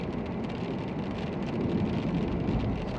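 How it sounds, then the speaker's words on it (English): Steady rain falls at an airbase, a constant broadband hiss with some wind buffeting, filling the whole short stretch with no voices. "it's unfortunate it started raining"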